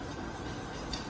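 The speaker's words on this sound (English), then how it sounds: "Whisk that in, make sure that it comes together." A whisk clinks and scrapes faintly inside a pot as salt is stirred into a mac and cheese sauce, a quiet, brief metallic stirring.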